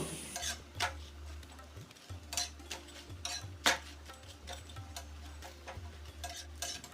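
Parotta fries in oil on a pan, with a soft steady sizzle under repeated light scrapes and clinks from a spatula as the flatbread is turned.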